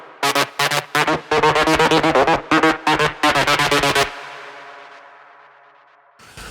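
Melodic techno drum pattern driven hard through a drum bus with heavy soft-style drive and crunch, punchy distorted hits in a steady groove for about four seconds, then a decaying reverb tail fading out before a brief return.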